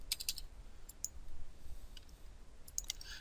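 A few quick, faint computer mouse clicks in Revit, two or three near the start and a couple near the end, over quiet room tone.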